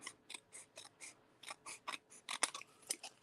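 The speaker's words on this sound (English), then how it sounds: "just come in with your snips and we're going to trim these up" Hand snips trim paper patchwork die cuts, giving about a dozen crisp, quiet cutting snaps, close by in an otherwise silent room, in an uneven rhythm.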